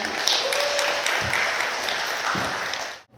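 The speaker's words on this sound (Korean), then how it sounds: "세 분께 큰 박수로 맞이해주시기 바랍니다" Audience clapping to welcome three presenters at a KOICA recruitment briefing, a steady wash of applause lasting about three seconds before cutting off abruptly.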